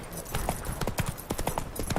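The horse Roach trots in The Witcher 3, its hooves clip-clopping in a steady, close rhythm over a constant background of ambient game noise.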